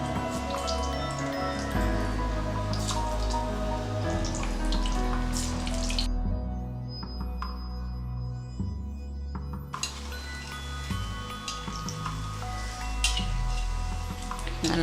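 Maggi pakoda balls dropped one at a time into well-heated oil, frying with a steady crackling, drip-like sizzle beneath a continuous musical backing, with no voices.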